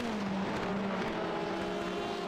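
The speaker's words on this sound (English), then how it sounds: "Multiple LMP2s and GTEs snaking their way up the hill here at Road" LMP2 and GTE race cars climb the hill at Road Atlanta, engines droning steadily at a distance with a sustained tone that shifts pitch as the cars work up the slope.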